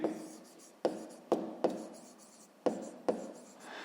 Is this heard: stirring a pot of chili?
no